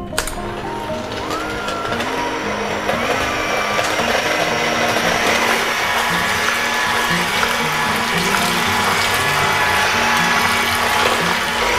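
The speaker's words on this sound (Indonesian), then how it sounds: "Nah, kita kocok dengan kecepatan sedang," An electric mixer beats eggs and sugar at medium speed, a continuous close whirring hum with a wet, churning texture that runs throughout at a steady pitch.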